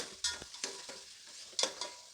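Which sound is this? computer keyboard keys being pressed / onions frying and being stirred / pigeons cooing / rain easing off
onions frying and being stirred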